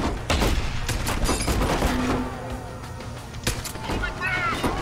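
Rapid bursts of gunfire in the stealth action game Deus Ex: Human Revolution, loud sharp shots cracking in quick clusters with booming impacts and a few gaps between volleys.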